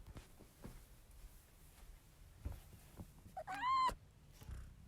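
A cat meows once to be let in the door, a short, rising call close by, set among soft scuffs and faint knocks in a quiet room.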